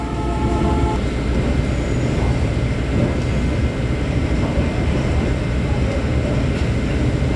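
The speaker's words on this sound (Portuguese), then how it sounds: "VLT com destino à cidade de Cabedelo. Próxima parada, estação Mantacaru." A VLT light rail train runs toward Cabedelo in Paraíba, heard from inside as a steady loud rumble of wheels and car noise that continues without a break, with faint voices underneath.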